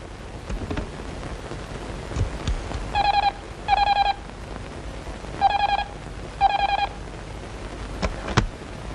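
Four short pairs of electronic dialing tones beep in a regular pattern over a soft background hiss, with a few sharp clicks before and after.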